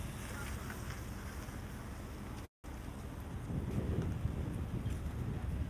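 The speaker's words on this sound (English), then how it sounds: "it's a little bit too windy right here" Strong wind blows outdoors and buffets the microphone in a continuous low roar that swells slightly toward the end, broken once by a brief dropout.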